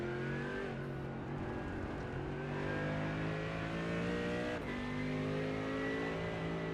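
GT3 race cars, a BMW and a Mercedes, in a sim racing game, with engines droning and revving steadily together as they run close, a gear change shifting the pitch partway through.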